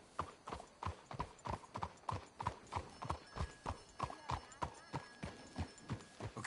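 Steady clip-clop of horse hooves in Red Dead Redemption 2 in a quick, even rhythm, close and clear, with a faint voice and a brief whinny in the background.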